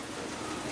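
Steady rain falls outside a shop on a warm, wet day, giving a brief, even hiss of drops on hard surfaces with no other sounds standing out.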